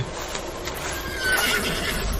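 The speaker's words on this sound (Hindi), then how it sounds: "घोड़े की आवाज" Horse neighing with hooves clip-clopping, set in a Hindi audio drama about a horse-drawn tonga; a whinny rises midway over steady hoofbeats and a busy background, with no talk.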